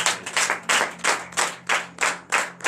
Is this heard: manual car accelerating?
no